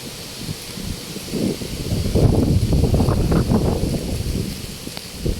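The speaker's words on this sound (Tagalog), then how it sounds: "lakas ng hangin dito" Strong wind gusts buffeting and rustling nearby in a park by a river, a rough roaring surge that builds midway and holds steady, with no talking.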